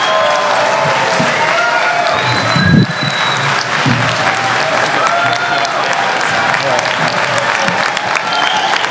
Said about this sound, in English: Please give me a big round of applause for Chris Fields.